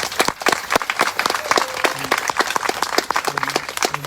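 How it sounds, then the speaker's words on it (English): Applause from an audience at an award ceremony for a student art exhibition, a steady round of many hands clapping close and loud for several seconds, with brief tonal sounds and faint voices underneath. "how about a round of applause for Mahaska for 35 years?"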